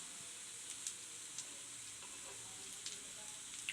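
Semiya jamun fries on the stove in a quiet, steady sizzle, with soft scattered crackles and pops that stay faint throughout.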